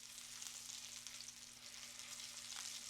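Homemade bacon fries in a pan with a dense, steady crackling sizzle, close and continuous, spitting softly throughout without any talk.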